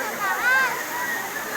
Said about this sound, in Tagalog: Welcome to Daranac Falls.